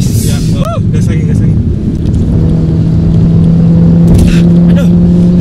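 A modified Mercedes-Benz, a W204 C250 or W212 E400, accelerates hard on a test drive, its engine droning loudly from inside the cabin with a rising tone, wind noise and a brief voice near the start.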